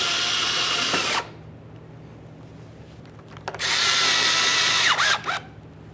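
Power tool driving bumper bracket mounting bolts on a Ford Fusion, two loud close bursts of whirring separated by a quieter pause, with short clicks between.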